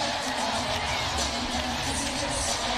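Crowd at an Iowa State at Iowa event, a steady wash of cheering and chatter with occasional whoops, heard at moderate distance with voices mixed in.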